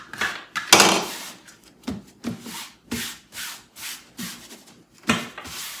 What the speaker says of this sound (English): I'm going to use the smoothing tool.